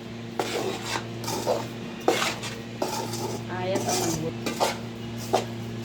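Raw mango pieces being mixed with salt and chili powder in a metal vessel for pickle, with repeated clinks and scrapes of a spoon against the pot at an irregular pace, close by.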